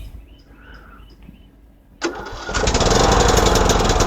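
A John Deere LA105 lawn tractor engine cranks and catches, then roars into a loud, steady running idle close by after a quieter start with faint chirps and clicks.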